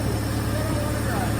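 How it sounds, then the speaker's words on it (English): A 1963 Pontiac LeMans convertible with a Trophy 4 engine idles with a steady low rumble, and a voice speaks over it nearby. "It's idling. So, damn, that motor sounds pretty good."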